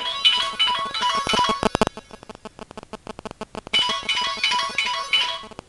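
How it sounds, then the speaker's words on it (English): A mobile phone ringtone rings loudly indoors in repeated bursts, a melodic electronic tune with a stretch of rapid pulsing beeps in the middle before the melody returns, with no talking over it. "my phone has to ring while I'm doing video"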